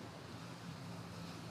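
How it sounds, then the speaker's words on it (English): A gust of wind rushes across the microphone at an outdoor beach volleyball match, a broad, steady roar of wind noise lasting the whole moment with no clear voices. "Big gust of wind."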